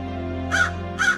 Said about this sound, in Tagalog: ay may isang uwak.